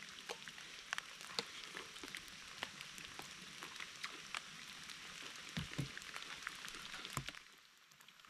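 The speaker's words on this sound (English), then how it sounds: "Raining again." Faint, steady patter of rain falling in a forest, with scattered louder drops tapping nearby surfaces throughout.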